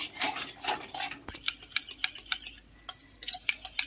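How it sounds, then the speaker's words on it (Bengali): Spice masala being stirred and fried in a pan for a cauliflower roast, with repeated metal spoon scrapes and clinks against the pan over a soft sizzle, close and steady, with no talking. "মশলাটা ভালো করে আবার কষিয়ে নিই।"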